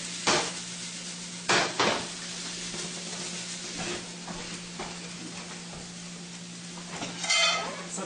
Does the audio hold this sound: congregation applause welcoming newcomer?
no